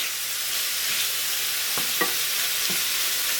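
Kidneys browning in a pan for stew, with the remaining liquid cooking off, give a steady close sizzle and frying hiss, broken by a few soft clicks of stirring.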